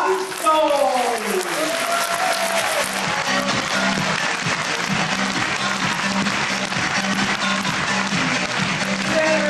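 An audience applauds to welcome a speaker onstage at a diamond business seminar in Taipei, a sustained dense wash of clapping that swells in after a brief musical tone and continues steadily throughout, with a voice briefly heard over the start.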